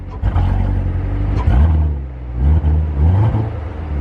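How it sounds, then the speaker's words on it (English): A new car's engine revving nearby, a loud low rumble that swells and eases twice over a few seconds, no talking. "Give it a little rev."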